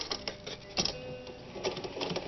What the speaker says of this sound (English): Look at how slow and precise you can sew with this thing.